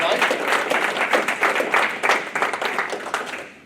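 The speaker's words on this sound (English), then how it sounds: "If we could give the panel a round of applause." An audience at a speaker forum on the genetics of profitable lamb production applauds the panel: steady, dense clapping from a crowd in a hall, holding fairly loud before tapering off at the end, with no talk over it.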